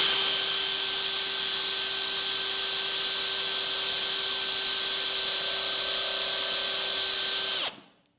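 A cheap Chinese center drill spinning steadily in a drill press on an arbor press stand, a bright continuous whine with a steady pitch that holds for several seconds before cutting off abruptly near the end.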